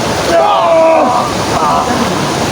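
Water rushing steadily along a riverbank, a broad continuous wash with some wind noise on the microphone and no voices.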